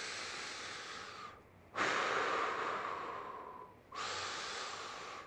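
Deep breathing in during a core stability exercise with the legs raised, a long close airy inhalation with a pause before another breath begins, soft and steady.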